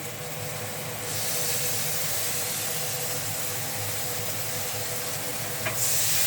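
Continuous loud sizzling hiss of spices frying in a pan, steady throughout with a slight surge near the end.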